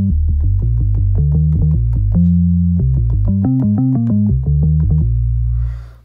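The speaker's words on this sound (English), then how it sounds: "this one's just a real simple bass sound" A simple Novation Circuit synth bass, a square wave layered with a sine wave with light filtering and drive, plays a clean rhythmic pattern of short notes, loud and alone, ending on a sustained tone.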